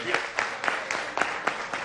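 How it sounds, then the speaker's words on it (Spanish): Sparse, separate handclaps at a steady rhythm, about seven in under two seconds, faint and close, with a murmur of voices underneath. "Un aplauso fuerte para este municipio"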